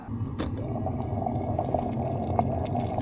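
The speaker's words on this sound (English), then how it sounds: "You can already hear the water starting to boil a bit." Water heats for tea in a small camping setup beside an electric motorcycle camper, giving a steady low hiss and rumble with faint scattered pops as it begins to boil.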